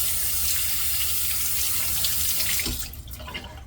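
Tap water running steadily into a sink while rinsing after a shave, a continuous close hiss that cuts off near the end, leaving quiet drips and faint handling.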